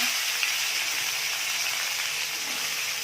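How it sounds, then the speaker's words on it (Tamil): Cabbage frying in a pan with mustard seeds, urad dal and curry leaves, giving a steady broadband sizzle and hiss at an even level throughout, with no talking. "இப்போ நம்ம மிக்ஸ் பண்ணி வச்சு இந்த கோஸை போட்டுக்கலாம்."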